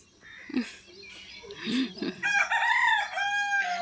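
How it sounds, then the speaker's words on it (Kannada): Chickens cluck softly at a backyard coop before a rooster lets out a loud, drawn-out crow close by. "ಇದು ನಮ್ಮ ಕೋಳಿ ಗೂಡು ನೋಡಿ."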